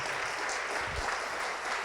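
A church congregation applauds in a brief, moderately loud burst of blended clapping that fills the room evenly.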